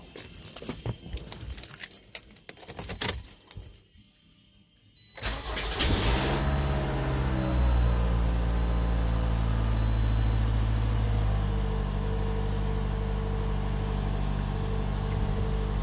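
A 2017 Toyota RAV4 starts up after a water pump replacement, with keys jangling and clicking, then the starter cranking and the engine catching into a loud, steady idle that runs on evenly.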